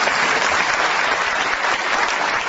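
Loud, dense applause from an audience at a plaque award ceremony in Crotone, sustained and even across the moment.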